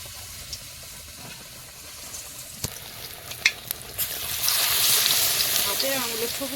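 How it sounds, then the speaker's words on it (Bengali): Potato chop fritters coated in batter are lowered into hot oil; a steady frying sizzle swells and holds over the last couple of seconds, with light clinks and a faint voice earlier. "একটা করে নিয়ে এই ব্যাটারে মিশিয়ে তেলে ছেড়ে দেবো দেখি কেমন চপ ওঠে"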